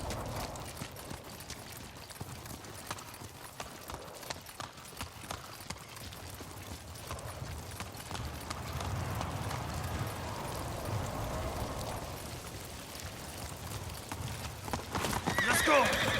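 A horse in the video game Ghost of Tsushima on PS5 clip-clops steadily with occasional neighs, its hoofbeats mixed with other game sound and voices throughout.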